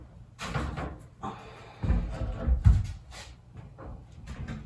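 A bathroom door being handled during fitting, with a series of wooden knocks, thumps and clunks at irregular intervals, some heavier than others, all fairly close.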